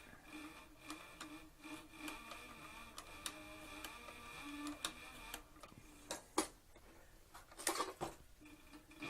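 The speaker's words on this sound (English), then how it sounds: "I'm sewing without a guide." A CB4500 industrial sewing machine with a servo motor stitches a leather flank strap for a western saddle, making quiet, close, rhythmic ticking clicks at an uneven pace, with a few louder mechanical knocks near the end.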